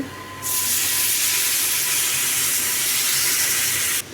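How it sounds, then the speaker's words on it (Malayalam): Vinegar hits a hot pan of beef pickle with chili powder, bursting into a loud, steady hiss of steam that holds for about three and a half seconds before cutting off abruptly. "ഇനി വിനീഗർ ഒഴിച്ചു കൊടുക്കുന്നുണ്ട്"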